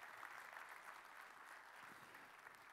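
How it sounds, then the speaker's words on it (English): Conference audience applause, a steady, dense wash of clapping from a crowd, fairly quiet and sustained without pause. "Round of applause."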